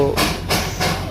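A steam locomotive at Darjeeling's Batasia Loop hisses in three rhythmic, close bursts of steam over a low mechanical rumble.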